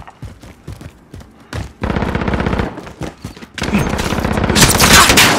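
Gunfire in Call of Duty Modern Warfare, a night battle: scattered single shots, then loud sustained automatic bursts that get denser and louder toward the end.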